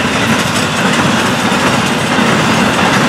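An FEC freight train rolls past at close range on an evening with wind blowing, a loud continuous rumble with rail clatter filling the whole stretch, no talking over it.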